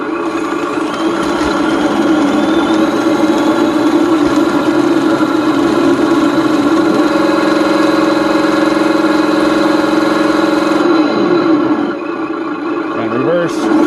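Sound unit fitted in a Bruder D11 bulldozer model plays a steady idling engine drone with a mechanical hum that holds for most of the stretch, then shifts and falls away near the end while a person talks over it.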